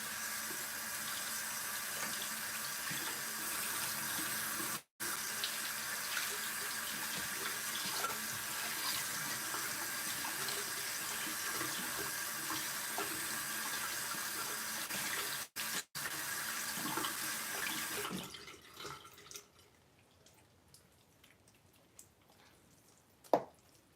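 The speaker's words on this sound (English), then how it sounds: "And I'm gonna rinse this off right quick and then do like another rinse over on my face." Tap water runs steadily from a faucet into a sink while a honey, crushed lavender and tea tree face mask is rinsed off, a close, continuous wash that cuts off with a couple of brief gaps and then trails into quiet.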